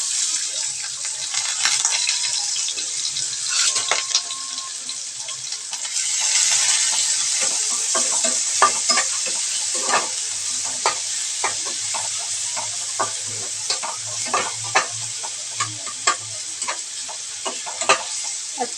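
Onion and tomato fry in hot oil with mustard seeds, a loud hissing sizzle that surges as the vegetables go in, followed by repeated stirring clicks and scrapes.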